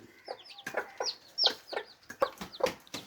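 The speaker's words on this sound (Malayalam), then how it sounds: "തള്ള വന്ന് തീറ്റയൊക്കെ കൊടുക്കാനായിട്ട് തള്ള കൊത്തി പഠിപ്പിക്കുകയാണ്" A hen clucks in short repeated bursts, close by, as she feeds her chicks, which peep softly around her; no talking.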